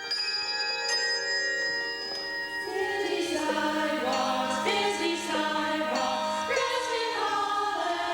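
A handbell choir at a holiday program in New Glarus rings a bright, melodic tune in sequence, sustained tones overlapping and lingering with a clear chiming resonance.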